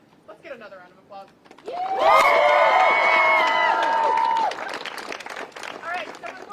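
A crowd at a UT Austin student walkout rally for abortion and transgender rights breaks into a burst of loud applause and cheering that lasts a couple of seconds, after a voice over a speaker system, then dies back to scattered crowd noise.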